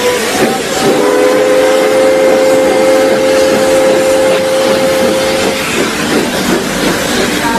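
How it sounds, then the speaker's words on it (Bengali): A train at a small rural station, a loud steady rumble of wagons and engine with whistle-like tones, continuous throughout and with no voices. "ট্রেন 2 মিনিট থেমে চলে গেল।"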